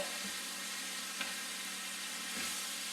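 Venison browning in a hot pan, a steady soft sizzle and frying hiss with faint stirring ticks, close and fairly quiet, with no talking.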